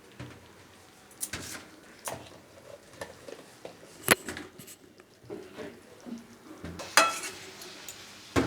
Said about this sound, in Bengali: এবার আমি এই ছোটো ছোটো করে কেটে থাকা চিকেনগুলো দিয়ে দেবো।